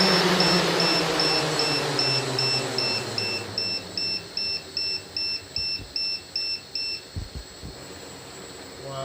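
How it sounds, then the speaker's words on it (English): A Xaircraft SuperX 650 drone's battery low-voltage alarm gives a steady series of short, high beeps at an even pace. A loud motor whine sits underneath and fades partway through. "You can hear the alarm is going off on the battery alarm."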